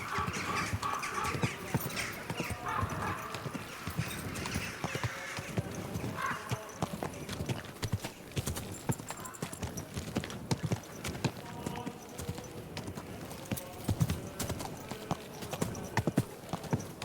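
Horse hooves clip-clop steadily through a town in Kingdom Come: Deliverance II, a continuous rhythmic trot over busy ambient street noise, fairly close and moderately loud.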